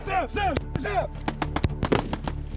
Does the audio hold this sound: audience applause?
no